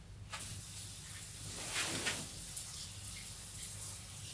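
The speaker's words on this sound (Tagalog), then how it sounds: "Dilig lang po muna ako saglit dito sa tatlong malalaking pots." Water from a garden hose hisses and splashes into three large plant pots on a veranda at night, a steady, moderate rush with a low hum underneath.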